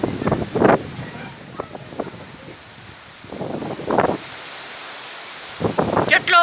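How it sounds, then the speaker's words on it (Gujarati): Strong storm wind gusting with rain, a steady airy roar and rustle running beneath intermittent bursts of a person talking. "અતિ ભારે પવન નીકળ્યો છે"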